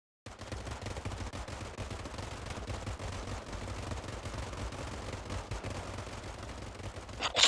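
Sustained volley of rifle fire as two ranks shoot together on command, dense rapid cracks over a steady low rumble, loud and continuous throughout with a louder burst at the end.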